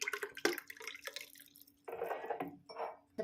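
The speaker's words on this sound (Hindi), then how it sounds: "तो इस तरह से ढार लेंगे गिलास में।" Aam panna drink is poured into a glass, heard as close liquid splashing and trickling in a few separate pours with short pauses between them.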